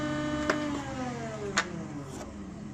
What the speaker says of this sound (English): Yeah, the motor is running.